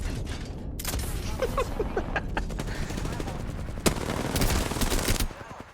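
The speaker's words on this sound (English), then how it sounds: "The enemies are shooting at me." Rapid video game gunfire from enemy shooters rattles through the whole scene in dense bursts, with a few sharper single shots cutting through near the end.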